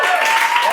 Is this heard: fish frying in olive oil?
no